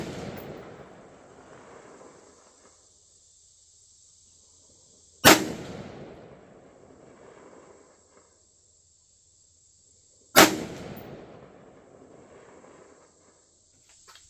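Three sharp, loud rifle shots fired with generic ammo through a Firefield Barrage 2.5-10x scope, evenly spaced about five seconds apart, each crack trailing into a short decaying echo over quiet outdoor air.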